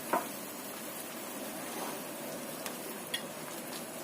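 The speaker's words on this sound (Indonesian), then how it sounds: "Kita aduk." A carrot and cornstarch mixture stirred in a pan, with a faint steady sizzle, a scrape of the utensil near the start and a few light clinks of metal against the pan.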